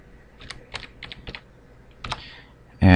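Keys tapped on a computer keyboard while entering a name during Second Life bot setup: a few sparse, close clicks in an irregular rhythm, ending in a sudden loud burst.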